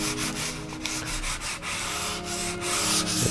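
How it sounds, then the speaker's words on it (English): Continuous light rubbing of 400-grit sandpaper scuff sanding a shellac finish on a highchest, quick back-and-forth strokes, close and steady, with no talking. "I've got some 400 grit sandpaper here, and we're scuff sanding it"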